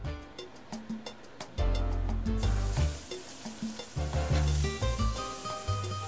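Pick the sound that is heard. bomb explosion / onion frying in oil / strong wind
onion frying in oil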